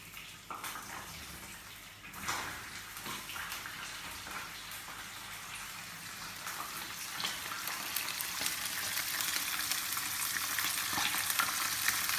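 Onions sautéing in a pan, a continuous close hiss of frying that grows slightly louder and denser over time, with a few soft utensil clicks and no talking.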